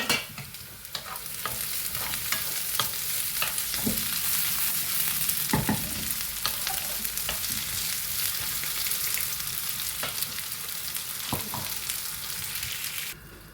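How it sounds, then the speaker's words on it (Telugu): Potatoes fry in an oiled pan with a continuous loud sizzle, and a spatula scrapes and knocks against the pan at an irregular pace throughout, close by with no talk. "ఇందులోకే బంగాళదుంపలు వేస్తున్నానండి. బంగాళదుంపలు కూడా కొంచెం ఫ్రై కావాలన్నమాట."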